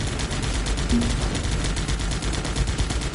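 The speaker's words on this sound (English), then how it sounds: "my bunkers are firing like crazy now" Dense, continuous bursts of automatic gunfire from defensive bunkers in the strategy video game Guns Up!, crackling steadily and loudly for the whole stretch with no letup.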